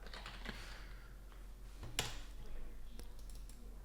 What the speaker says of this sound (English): As you can hear me type in there.